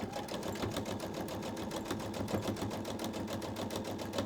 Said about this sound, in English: I'm going to do a 1/4 inch seam allowance, and then I'm going to back stitch because I'm in the corner here